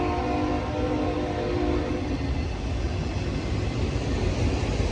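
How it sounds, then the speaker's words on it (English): A Union Pacific AMICH auto rack freight train rolls past in Reno, Nevada, a loud continuous low rumble and rattle of wheels and cars with faint tonal whine, steady for the whole stretch. "I think this is the AMICH auto rack train at Reno."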